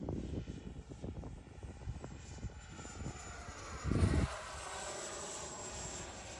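An Avanti S V2 model jet flies at half throttle, its engine a steady distant whoosh with a brief louder low rumble midway as it passes, heard outdoors without speech.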